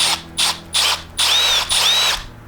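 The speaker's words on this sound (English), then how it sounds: "drill the holes out just a little bit because sometimes they're not perfectly centered" A power drill opening up the screw holes in a KICK-EEZ rifle recoil pad, running in four or five short whining bursts of rising and falling pitch, separated by brief pauses, loud and close with no talking.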